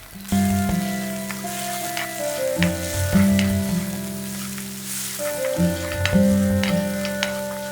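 Coriander root frying in a pan with shallots and ginger for coriander chutney: a loud, close, steady sizzle with crackling spatters and a faint steady hum underneath.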